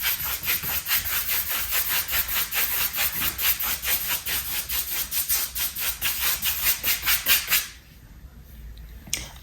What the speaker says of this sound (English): now I am just going back and forth, rubbing the existing paint that's already on here and spreading it out a little bit more